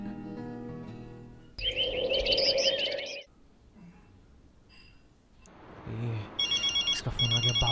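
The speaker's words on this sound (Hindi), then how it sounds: "इसका फोन आ गया।" A phone rings with a chirping, warbling electronic ringtone in two bursts separated by a quieter pause, close and clear over faint background sound.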